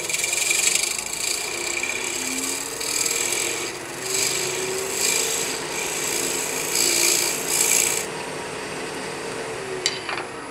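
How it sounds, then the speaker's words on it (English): Scraping along the edge of an acrylic sheet to clean it, a steady rasping drag repeated in several strokes, close and fairly loud with no talking. "I'm going to clean this edge up a little bit with a simple scraping move"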